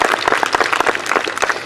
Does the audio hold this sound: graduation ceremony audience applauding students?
yes